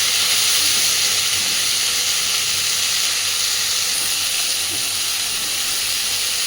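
Cauliflower and potato curry sizzles steadily in a hot pan, a dense, even frying hiss that holds loud and close throughout with no voices.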